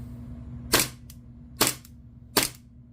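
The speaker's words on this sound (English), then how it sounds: "So if we do fire the unit," Three sharp test shots from an Army Armament TTI Combat Master Hi-Capa airsoft pistol, crisp close snaps at evenly spaced intervals over a quiet background hum.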